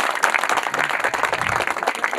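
An audience applauds at a staged Telugu social drama, Ranarangam, with dense, continuous clapping that is close and lively across the whole stretch.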